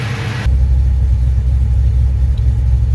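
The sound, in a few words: car engine running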